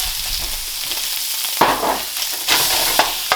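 Egg is scrambled in a hot pan for Singapore-style noodles, a steady sizzle broken by several sharp scraping strokes of the spatula, close and fairly loud, with no voices.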